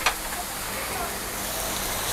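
Chicken pieces hit a hot wok for fried rice with a bright burst of sizzling that settles into steady frying hiss, close and loud, with faint talk in the background.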